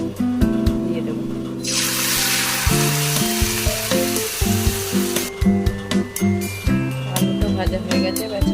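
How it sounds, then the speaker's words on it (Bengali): Potato slices for chips dropped into hot oil, breaking into a loud burst of sizzling frying that settles into a steady crackle, with music playing underneath throughout. "এবার অল্প অল্প আলুটা দিয়ে দেবো।"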